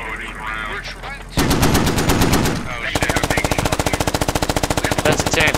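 A .50 cal machine gun fires a sustained rapid burst, loud and close, the rattling shots continuing steadily after a brief lead-in of heavier thumping and background commotion.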